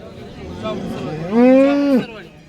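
A cow at the Sangola cattle market gives one loud, drawn-out moo lasting under a second, rising above a low murmur of the crowd and voices.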